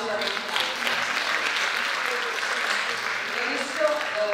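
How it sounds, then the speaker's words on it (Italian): Conference audience applause, a continuous, evenly dense round of clapping from a seated crowd, fairly close and steady from start to finish with little variation. "Quindi rinnoviamo l'applauso."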